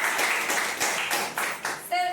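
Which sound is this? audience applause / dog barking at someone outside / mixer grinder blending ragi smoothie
audience applause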